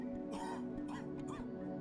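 A couple of short, rough coughs and throat-clearing sounds from the video game Genshin Impact, close and fairly quiet, over a faint steady hum.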